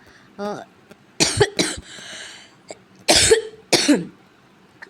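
A few sharp coughs in short bursts, close and fairly loud, separated by quiet pauses and a brief murmur of voice.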